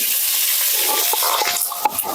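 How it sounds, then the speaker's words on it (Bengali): Potatoes frying in hot oil in a karahi for a restaurant-style karahi chicken, producing a loud, continuous hiss with scattered sharp crackles and stirring scrapes toward the end. "এবার আমি আলুগুলো ভেজে নেবো।"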